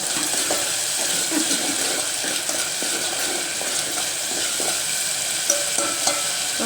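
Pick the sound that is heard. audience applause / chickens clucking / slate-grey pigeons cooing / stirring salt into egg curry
stirring salt into egg curry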